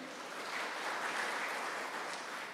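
A church congregation at a Christmas service claps together in a soft, steady wash of applause that holds evenly for a few seconds, heard from some distance.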